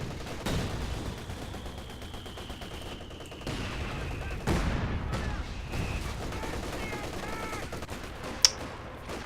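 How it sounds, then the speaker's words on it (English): Katyusha rocket artillery fires during a 4v4 battle in Company of Heroes 2 amid sharp repeated explosions and gunfire, with several distinct booming impacts over a steady clatter of battle noise. "Oh, Katyusha."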